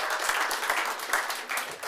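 Applause at a city council meeting after a 5-1 vote, a short burst of many hands clapping in the chamber, steady and fairly close throughout.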